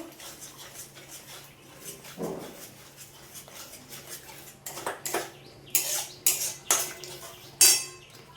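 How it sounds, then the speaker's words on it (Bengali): Sour curd is beaten in a pan, with soft scraping followed by sharp metallic clinks and clanks of a utensil against the pan, growing louder and more frequent toward the end. "টক দইটা দিয়ে ভালো করে ফেটে নেব"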